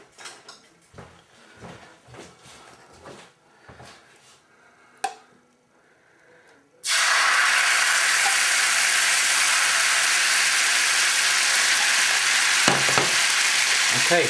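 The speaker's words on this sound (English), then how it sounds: "that's the sauce nicely deglazing the pan" Sauce poured into a hot pan to deglaze it for black peppercorn sauce: after a few quiet clinks and scrapes, a sudden loud, steady roaring sizzle takes over and holds to the end, close and dense.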